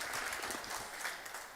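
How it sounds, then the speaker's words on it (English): Audience clapping at a women's business incubation graduation ceremony, a steady, dense patter of many hands that carries on evenly throughout, with no voices over it. "Clap for me."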